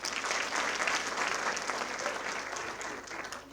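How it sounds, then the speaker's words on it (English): An audience at a women in media and communications panel discussion gives a sustained round of applause, heard at a moderate distance and quite soft, even and continuous with no talk over it. "A big round of applause, please."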